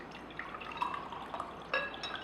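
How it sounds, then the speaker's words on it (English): Sesame oil poured from a bottle into water, giving soft dripping and trickling splashes with a brief brighter splash near the end, close and quiet with no talking. "I'm going to use a bottle of oil, which is sesame oil. I'm going to actually put some oil here."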